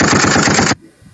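A voice imitates rapid machine-gun fire, a dense burst of staccato rattling for under a second, then it cuts off abruptly into near silence.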